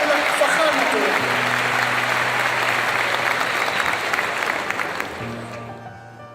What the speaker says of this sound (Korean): 따뜻한 박수로 환영해 주시기 바랍니다.